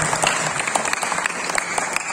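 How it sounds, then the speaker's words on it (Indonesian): Audience applause at a national awareness lecture in Indonesia: a steady, fairly loud patter of many hands clapping, close and continuous throughout, with no voices. "Ya, tepuk tangan dulu."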